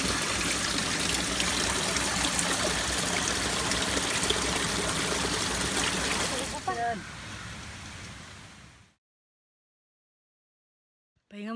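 Stream water trickling and gushing steadily beside the Papaya River on Mt. Tarak, loud and close, then fading out and going silent toward the end.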